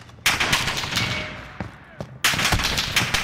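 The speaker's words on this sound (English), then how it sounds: "Under fire here!" Gunfire in the Call of Duty video game during a team deathmatch on the Piccadilly map, with loud bursts of rapid automatic shots that break off briefly and then resume close up.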